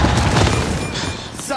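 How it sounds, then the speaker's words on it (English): A flashbang grenade going off in the shooter game Gears 5, a loud, close, rumbling boom that fills the moment and slowly fades, with combat noise around it. "Incoming flashbang!"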